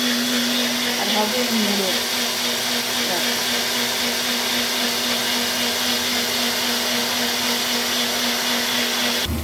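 An electric grinder whirring steadily as it grinds spices with tomato, onion and green chili, a loud continuous motor drone with a fixed hum running throughout; a voice speaks briefly over it.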